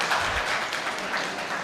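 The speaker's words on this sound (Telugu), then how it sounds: "చప్పట్లు కొట్టండి కొద్దిగా." A church congregation claps together in a steady, dense patter of applause that lasts briefly and stays even, with no talk over it.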